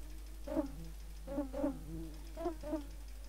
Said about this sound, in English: Oh, I've pissed off some bees now.